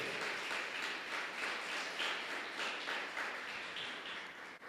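A church congregation applauds steadily in a dense, even wash of many hands clapping, heard from a modest distance and fading slightly at the end.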